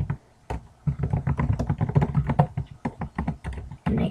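Typing HTML code on a computer keyboard, a quick irregular run of close clicky keystrokes and taps, with brief pauses between bursts.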